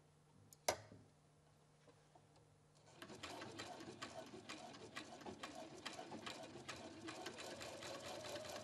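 A Husqvarna Viking Platinum Plus sewing machine stitches fabric on its free arm, a steady fast mechanical rattle starting after a brief click and quiet pause, close and fairly quiet.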